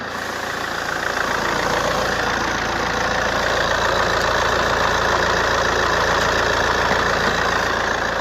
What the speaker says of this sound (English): Let's go and have a little look at the engine.